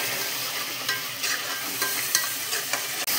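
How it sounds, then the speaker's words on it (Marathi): Masala frying in oil in a pan for a Marathwada-style masvadi, a steady close sizzle with a few soft scrapes of stirring scattered through, no voices. "चांगलं तेल सुटेपर्यंत हा मसाला फ्राय करायचा आहे"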